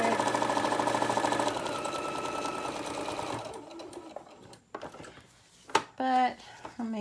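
A sewing machine stitches Minke fur fabric with a fast, steady mechanical whirring for about three and a half seconds, then stops, followed by a few handling clicks and brief talk.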